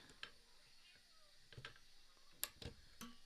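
A house cat meows a few times indoors, short close calls separated by pauses over a quiet room.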